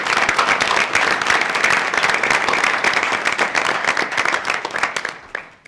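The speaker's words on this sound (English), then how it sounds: "I would just ask everybody to give a round of applause and an official welcome to Dr." A conference room audience at a University of Missouri Board of Curators meeting claps loudly and steadily to welcome Dr. Lofton, dense applause that thins and fades out over the final second.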